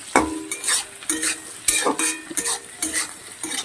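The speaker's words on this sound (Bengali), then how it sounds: "দিয়ে পেঁয়াজের সঙ্গে আবার এগুলোকে ভাজবো ভালো করে" Sliced onions and slit green chillies frying in a pan, with a steady sizzle broken by repeated scraping stirs of a spatula, close and fairly loud, no voices.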